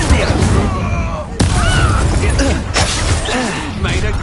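A fire spell is cast in the video game Hogwarts Legacy, with loud crackling bursts and sharp impacts, including two abrupt bangs, amid continuous combat noise.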